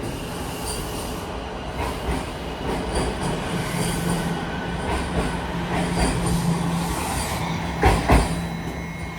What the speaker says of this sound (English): as this train is slowly rolling out of here.